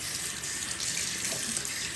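A kitchen or bathroom tap runs steadily while hands are washed underneath, a close, continuous hiss and splash of flowing water with no pauses.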